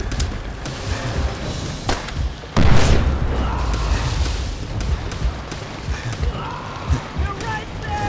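Explosive charges detonate in the Call of Duty: World at War game, a heavy boom near the three-second mark rolling over a constant rumble of wind and water from a boat, with a few sharper bangs scattered around it.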